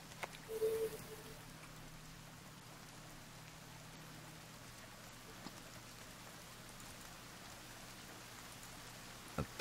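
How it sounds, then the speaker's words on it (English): Rain falls in the survival video game The Forest as a steady, soft hiss of rainfall, low and continuous, with a brief faint tone near the start and a couple of small ticks. "It's because it's raining!"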